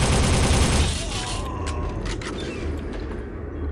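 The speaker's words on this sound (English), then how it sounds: "Machine gun is pretty powerful though." Machine gun fire in Soldier of Fortune: a loud, dense burst of rapid shots opens the moment, then drops away into mechanical clatter and fainter scattered game noise.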